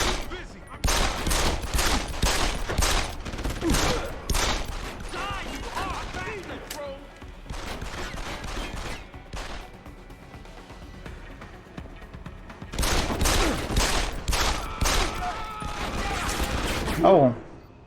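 Gunfire in the video game Deus Ex: Human Revolution, dense bursts of shots in two loud clusters with a quieter stretch between, mixed with game noise and someone talking over it.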